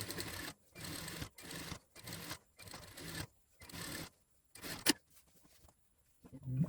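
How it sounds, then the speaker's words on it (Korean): A sewing machine stitches a double row along a garment seam near the underarm, running in short, steady bursts separated by brief pauses, close and clear with no talking. "요 겨드랑이 점에서 10cm 떼고 봉제를 해주세요. 두 줄로."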